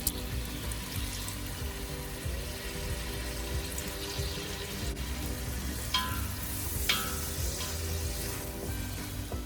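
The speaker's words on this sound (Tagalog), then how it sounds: "Hayaan natin mag-caramelize ang sibuyas." Onions caramelize in a frying pan with a steady, even sizzle and occasional stirring scrapes, heard up close at moderate loudness with no voices.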